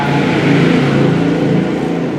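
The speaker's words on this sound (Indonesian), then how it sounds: "banyak knalpot brong di tempat saya, jadi knalpotnya belum dikuduskan oleh Tuhan, jadi begitu dia berisik" A motorbike with a loud modified aftermarket exhaust passes by, giving a steady, loud, rough engine drone with a slight swell and fade, alone without talking.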